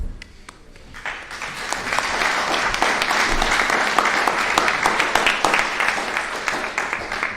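Applause from an audience at a city commission meeting builds after a few scattered claps, then holds as dense, loud clapping for several seconds.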